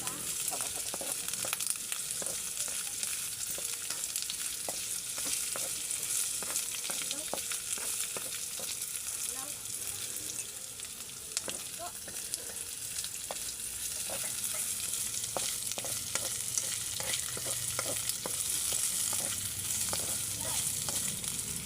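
Garlic and onions fry in a little oil in a pan, a steady close sizzle with frequent small crackles and pops that runs unbroken and evenly loud throughout.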